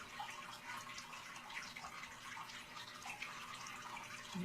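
Turkey broth squirts from a turkey baster onto Southern-style dressing, a faint, soft liquid trickle and splash heard up close for a few seconds.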